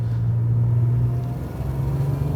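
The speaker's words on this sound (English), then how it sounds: "The car sounds just right too." Jaguar XJR-6 with a five-speed manual gearbox and a cast iron manifold, engine running with a steady, close, low rumble that holds level throughout with no talk over it.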